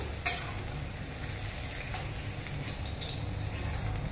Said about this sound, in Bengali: আর বাদ বাকি সব আমি তেলে সাঁতলে নিচ্ছি